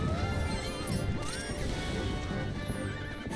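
Epona, the horse in the video game Twilight Princess, neighs and whinnies loudly as she is struck, with hoof clip-clops running underneath and a dense, busy game soundscape throughout.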